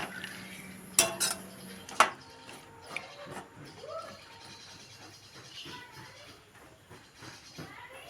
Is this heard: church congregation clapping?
no